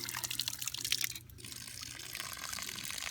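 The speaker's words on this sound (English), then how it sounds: "you're now going to get water coming out the top." Water gushes steadily from the top of a spring line valve in a spring-fed PEX water system, a close, continuous splashing hiss with a brief dip near the middle.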